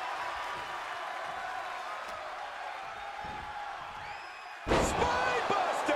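A wrestler is slammed to the mat with a spinebuster in the WWE 2K24 video game, a sudden heavy thud near the end breaking through a steady crowd murmur, followed by louder crowd noise and commentary.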